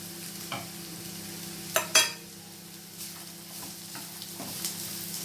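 Coconut pieces being stirred into a pan of browning chicken, a soft frying hiss under a low steady hum, broken by a few sharp scrapes and clinks of a spoon against the pan.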